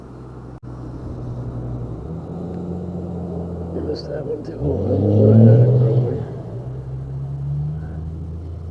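A small truck engine rumbles steadily in the background, swelling louder for a couple of seconds mid-way as it revs, while someone talks over it.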